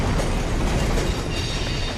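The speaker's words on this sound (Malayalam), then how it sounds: "ട്രെയിൻ ഇതാ" A train arriving in an animated cartoon comes through as a dense, loud, continuous rush of rumbling rail noise with faint clatter, steady and close the whole time, with no voices.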